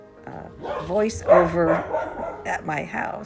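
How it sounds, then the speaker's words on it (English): Puppies barking at a home, with someone talking over the yips throughout; the barks come in short bursts close by and mix with her speech. "What you hear right now is the puppies"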